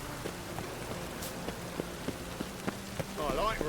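Rain falls in The Witcher 3 video game as a steady soft patter with scattered drops striking surfaces, and a faint voice comes in near the end.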